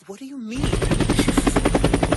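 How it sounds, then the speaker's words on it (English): A news helicopter from an anime episode passes overhead, with a rapid, loud rotor chop starting abruptly after a brief spoken line and pulsing evenly to the end. "It's just a news chopper for the fireworks display later on."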